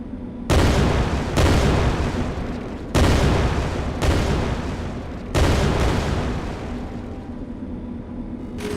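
Repeated explosions in the video game Syren, five loud booming bursts at uneven intervals, each with a sharp onset and a rumbling decay, with no talk over them.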